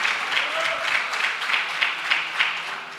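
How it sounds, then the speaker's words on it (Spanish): Applause from a church congregation during a sermon, a fairly soft, continuous patter of clapping with slight swells, heard at some distance. "Dale un aplauso a Dios."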